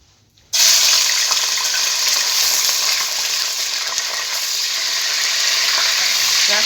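Pieces of meat fry in 250 grams of hot oil, the sizzle bursting in suddenly at full strength and holding as a loud, dense, steady crackle with no talking.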